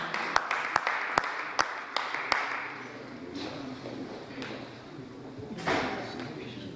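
Audience applause welcoming a poet to the stage at an Urdu mushaira in Dallas: a few sharp separate claps at first, then a sustained, moderately loud clapping wash with a brief swell near the end.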